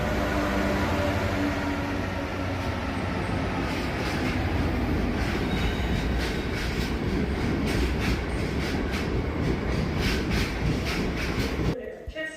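British Rail class 66 locomotive 66711 rumbles past at Crewe station, loud and close, with steady heavy engine noise and rhythmic wheel clatter over rail joints throughout, ending abruptly.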